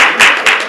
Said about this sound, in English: Get a clap on that